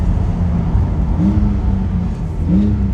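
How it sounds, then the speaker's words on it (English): Loud, steady engine drone of a Porsche 992 Turbo with turbo spool whines, blow-off sounds and a revving surge under load, exhaust echoing off rock walls on a mountain road, no voices. "Turbo spools, blow-off sounds, exhaust noise, which sounds amazing"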